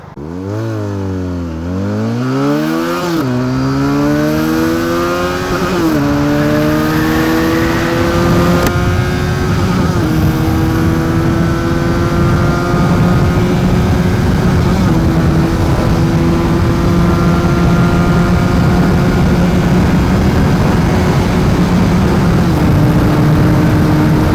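A QJ Motor SRK 400RR motorcycle accelerates hard from a standstill toward 100 km/h, its engine rising loudly and close through several gear shifts with brief dips between them, then holding a high steady drone.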